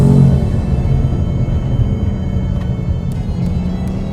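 A 2018 Ford Mustang's 5-liter V8 rumbles steadily and loudly at close range, a deep sustained engine roar without any talk.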